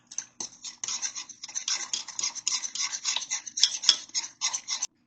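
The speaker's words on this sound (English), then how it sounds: "Got my little whisk here to stir." A small metal whisk stirs tomato paste into pulled pork in a Ninja Foodi pot, making a steady series of close scraping and clinking strokes with brief pauses between them.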